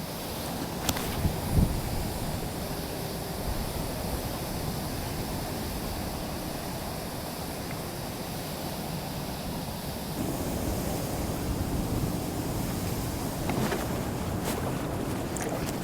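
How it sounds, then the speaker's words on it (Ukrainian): Strong, constant wind roars over the microphone for the whole stretch, a dense low rumble that thickens partway through, with a few faint knocks. "Вітер дуже, вітер дуже сильний."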